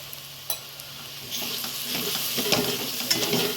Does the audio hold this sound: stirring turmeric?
yes